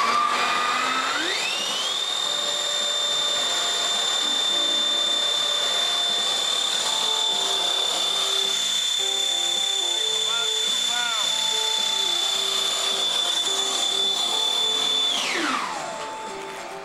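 An RC jet's ducted fan on a 7-pound NitroPlanes ProJet F-4 Phantom model spools up to a loud, high-pitched whine at full throttle, holds steady, then winds down near the end.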